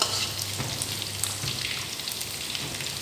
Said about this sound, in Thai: แล้วก็เอาลงไปผัดเลย